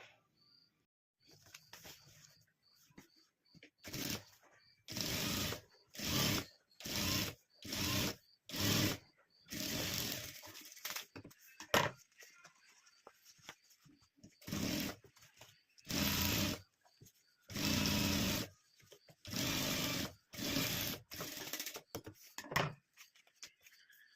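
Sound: sewing machine stitching fabric from an old sari

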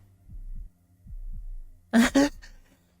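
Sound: loud heartbeat sound in Roblox video game

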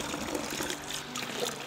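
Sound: water trickling from a holy spring

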